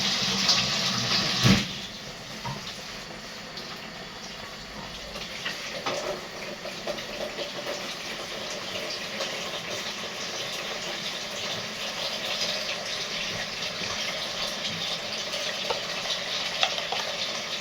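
Tap water runs steadily into a pot over food being prepared for a baked pasta and potato tray, a continuous moderate hiss with a brief knock near the start, no talking.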